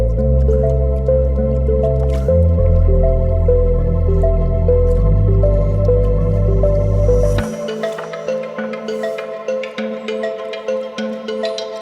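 Muddy pay dirt being panned for gold in water, with wet squishing and sloshing that grows more distinct in the second half, under steady tonal background music and no talking.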